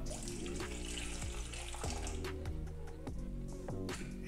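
Water is poured into a meat jerky marinade already holding soy sauce, a steady close trickle and splash running continuously with a few faint clinks, quiet and alone.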